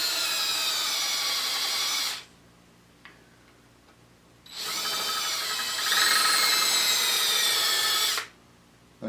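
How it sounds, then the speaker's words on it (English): A power drill runs in reverse through a mahogany guitar body in two long, loud, steady bursts, separated by a quiet pause with faint ticks, then stops abruptly. "And I'm running the drill backwards."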